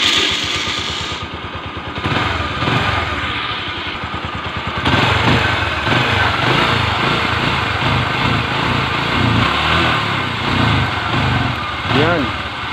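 Motorcycle engine test-running on a newly fitted diaphragm-type carburetor, running close and steady with an uneven sputtering idle and occasional revs, while a person talks over it.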